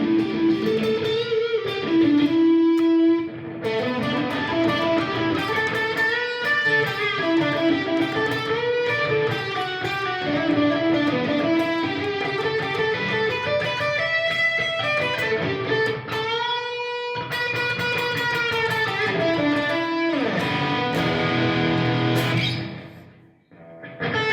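Electric guitar played through a Blackstar HT-1R valve amplifier with reverb switched on, sustained chords and single notes ringing continuously and loudly with a slight distorted edge, fading out near the end.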